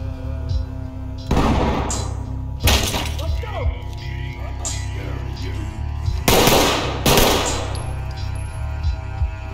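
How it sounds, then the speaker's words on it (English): Shotgun blasts breach a door in the tactical shooter Ready or Not. Several sharp, loud bangs and crashes come at irregular intervals over a low rumble, with voices talking between them. "Breach with shotgun."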